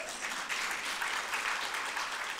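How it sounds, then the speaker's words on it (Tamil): An audience at a Tamil lecture claps steadily and fairly loudly, dense applause sustained without a break and with no voices over it. "இந்த கைதட்டு அந்த பொண்ணுக்கு மறந்துடாதீங்க"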